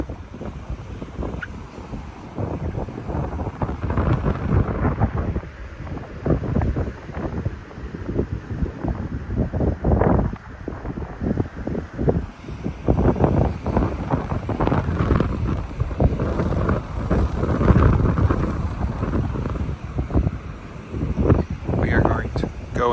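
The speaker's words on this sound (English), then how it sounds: "Sorry about all the wind noise, but it is breezy out here." Heavy wind buffets the microphone at a breezy beach, loud gusty rumbling that goes on throughout the walk, with possible faint voices underneath.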